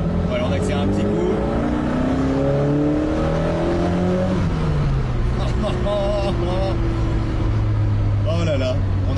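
Engine of a 1965 Alfa Romeo Giulia Sprint Speciale accelerating, a rising then falling rev heard from inside the car under ongoing talk, followed by a steady idle-like drone.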